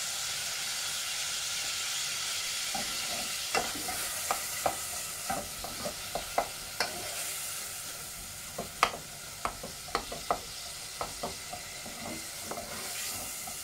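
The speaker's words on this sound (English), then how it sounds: "I'm going to brown the mince" Beef mince browning in a thick-bottomed pan gives a steady, close sizzle, with sharp scrapes and clicks of a spoon stirring at irregular intervals throughout.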